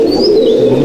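Gurudev-line pigeons at a loft for sale, with a soft steady cooing murmur held for under a second, close and loud against a constant background hum.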